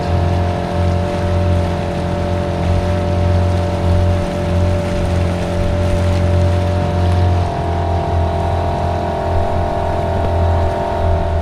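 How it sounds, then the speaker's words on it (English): An old outboard engine on a Honwave T38 inflatable boat runs steadily on the river from Totnes to Dartmouth, a continuous low droning hum with a constant tone under light water and wind noise, with no talking. "Old engine's seemingly going all right at the moment."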